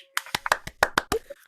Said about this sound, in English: Take your mics off and give Jack a clap.